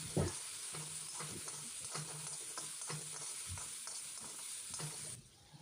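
Small diced potatoes frying with salt and turmeric in hot oil, a soft steady sizzle broken by repeated stirring scrapes, close and fairly quiet, no talk.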